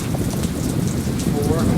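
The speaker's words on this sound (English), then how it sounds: "It's very wet, the pouring rain." Heavy pouring rain during a trip to the American Southwest, a dense, continuous hiss of drops close by, loud and steady for the whole short stretch, with a voice briefly audible underneath.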